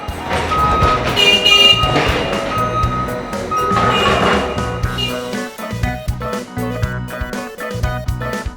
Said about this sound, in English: We're currently loading them into the back of a semi-truck.